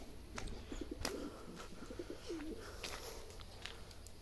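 Tumbler pigeons coo in a low, repeated rolling pattern over steady outdoor background noise, several soft calls spread across a few seconds with no voices.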